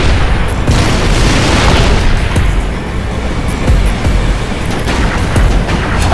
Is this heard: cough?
no